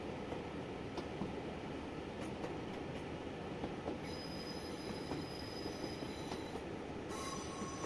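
A Class 37 diesel train in Train Simulator Classic runs on Highland track at dawn, with steady rolling rumble, wheel squeal and faint clickety-clack continuing throughout with no talk.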